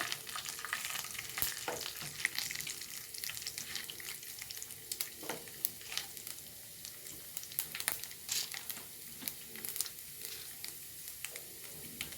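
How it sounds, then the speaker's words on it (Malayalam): Mustard seeds splutter in hot oil in a faint, quiet pan. Irregular sharp pops and crackles keep going over a soft sizzle, and no one speaks. "കടുകൊന്ന് പൊക്കട്ടെ"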